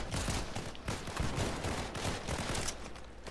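Gunshots fired at the player in Fortnite, a rapid, continuous fusillade of cracking shots with steady rhythm, dense and fairly close, with no talk over it.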